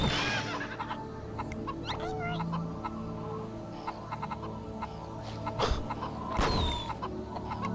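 Chicken clucks from the PS1 game Mort the Chicken sound in a steady run over game music and effects, with a few sharp louder hits partway through.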